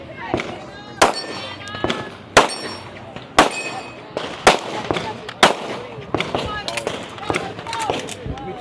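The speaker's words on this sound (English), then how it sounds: "These are her last 5 shots with the rifle." Rifle shots in a women's tactical ski-and-steel stage ring out in sharp, evenly spaced cracks, each followed by a bright metallic clang on steel targets, about seven impacts with an announcer talking over them.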